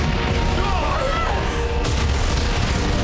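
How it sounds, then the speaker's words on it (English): A heavy, rumbling blast of a building exploding in an anime scene, with crashing debris filling the air, a dense continuous roar with a sharp burst partway through. "That's the sound of a building exploding."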